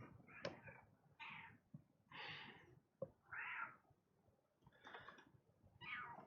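A pet cat meows several times in short, separate calls with pauses between them, quiet and close, with a soft purring murmur underneath.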